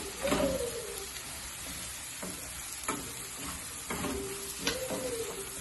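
Garlic sizzles in a pan in a Ghanaian kitchen while a utensil stirs it, scraping and tapping against the pan in irregular strokes, with a few squeaky scrapes over the steady frying.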